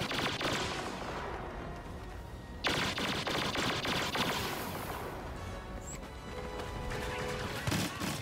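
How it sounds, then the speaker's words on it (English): EE-3 blaster rifle burst fire in the Star Wars Battlefront video game, heard as dense, rapid laser shots over busy battle noise, with louder bursts standing out against a steady, crowded background of in-game gunfire. "Used by the hero Boba Fett, the EE-3 is a special rifle that uses a 3-shot burst to accurately damage opponents"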